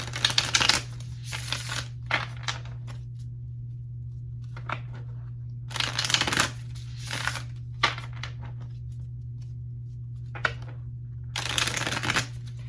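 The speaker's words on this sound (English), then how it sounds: "We're going to shuffle this a few times as well." Tarot cards are shuffled in several short bursts of riffling and flicking, close up, separated by quiet gaps over a low steady hum.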